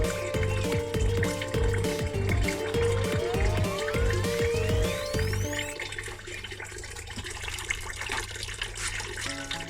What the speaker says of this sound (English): So I'll just pour this in.